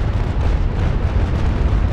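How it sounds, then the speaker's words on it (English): Cannon fire in a pirate naval combat game set against a British harbour defence force, a loud, continuous low rumbling boom filling the whole moment with no voices. "I just dismounted one of the enemy's cannons"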